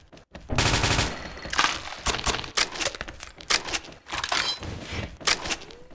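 Rapid bursts of automatic gunfire from the online shooter XSHOT in ghost mode, with an AK rifle, crackle loud and close in several quick volleys separated by brief gaps.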